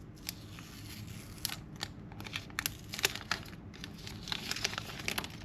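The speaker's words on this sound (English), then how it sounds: "unwrapping it is pretty straightforward. Just pull the tab" Box packaging being unwrapped by pulling a tear tab, a steady run of close, quiet ripping and crinkling with sharp little clicks and snaps scattered through it.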